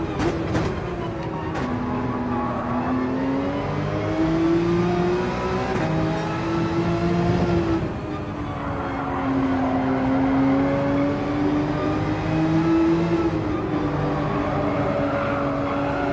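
A car engine droning steadily through laps of Trail Mountain, its pitch rising and falling with shifts in speed, continuous and close throughout.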